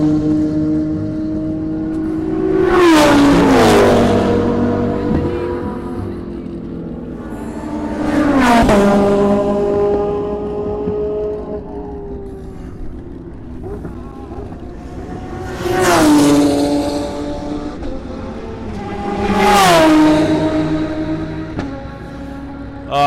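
Porsche race car and other extreme super cars lapping a circuit during qualifying, engines swelling in four loud passes as they roar by close and fade away, with a steady background of track noise between them.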